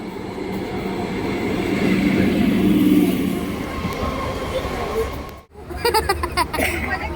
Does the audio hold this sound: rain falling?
no